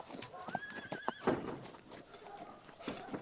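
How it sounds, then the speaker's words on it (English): A horse whinnies in a high, wavering neigh, with clip-clop hooves and scuffling around it, loud and close in a brief, busy outdoor scene from a fantasy action film. "Fucking horses!"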